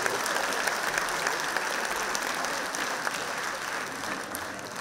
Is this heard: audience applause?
yes